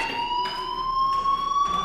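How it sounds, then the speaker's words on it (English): A fire alarm rings inside the game Life is Strange, a steady high electronic tone with faint pulsing bursts, moderately loud and unbroken for its whole length, with no talk over it. "Hey, do you hear that fire alarm?"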